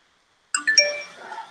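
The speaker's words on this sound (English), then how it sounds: "all these notifications go away" Computer notification chimes: a quick burst of three bright, bell-like dings in close succession after silence, ringing out and fading over about a second.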